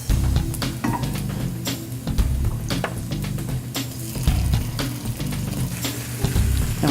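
Squash added to a pan of slowly cooking onions fries with a steady, dense sizzle and hiss, close and fairly loud, with occasional sharper crackles and stirring clicks throughout.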